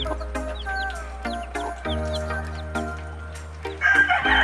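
Rhode Island cross hens clucking close by in a farmyard, a busy run of overlapping clucks and calls with a rooster-like crow, no talk over them.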